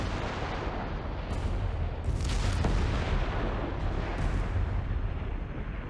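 Artillery fire from Company of Heroes 3, a World War II strategy game, with dense booming blasts rumbling under continuous battlefield noise; sharper reports stand out around the second and fourth seconds.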